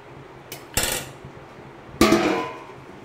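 Metal lid set onto a cooking pot during chicken preparation: two separate ringing metallic clanks, the second one louder, with short decaying resonance and quiet between them.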